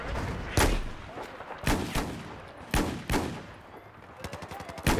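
Desert Eagle pistol fire in Battlefield 4 on the Golmud map: several loud, sharp single shots spaced about a second apart, then a quick rattling burst of gunfire near the end, with no talking.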